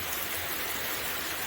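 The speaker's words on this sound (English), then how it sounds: "it's been a while since we've seen rain on here" Steady summer rain falls in a broad, even hiss with no distinct drops, close by and constant through the moment, with no voices.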